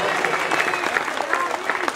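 Applause from an audience for a live orchestra at a dance venue, dense and steady clapping close by that fills the moment, with a voice speaking over it.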